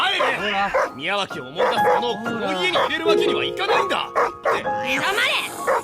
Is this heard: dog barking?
yes